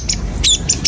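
A long-tailed shrike (cendet) kept in the open near other birds gives a few brief, harsh squawking calls, close and loud in a quick burst under a second long.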